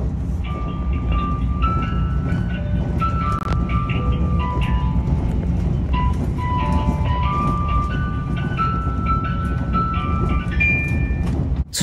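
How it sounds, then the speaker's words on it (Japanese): Aboard the JNR-liveried Yakumo limited express, an onboard music-box chime plays the Tetsudō Shōka melody in bright, sustained tones over the steady low rumble of the moving train, signalling the approach to the next station. "ここで鉄道唱歌のオルゴールが鳴って"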